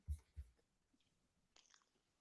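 Someone chewing a mouthful of rice and beans with kielbasa, with two close, soft crunchy bites near the start followed by quieter mouth sounds, then a short rustle.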